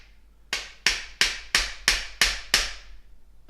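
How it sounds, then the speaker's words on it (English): A hammer strikes a pin on an AR-10 (LR308) rifle build seven times in a steady rhythm. Each sharp, close tap rings briefly before the next one. "Got my trusty hammer."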